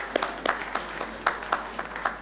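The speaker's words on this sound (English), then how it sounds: "Can we have huge round of applause for him?" An audience at a business forum applauds in a short, steady burst of clapping, with a few sharper claps standing out, heard close and alone.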